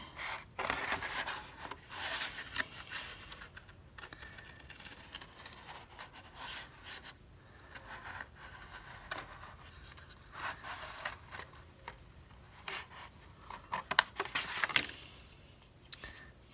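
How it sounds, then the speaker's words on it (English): Scissors cut out a paper heart with repeated light snipping and rustling strokes in irregular bursts, close and fairly quiet, with paper handling between cuts. "So I'm going to take the scissors and start cutting this out."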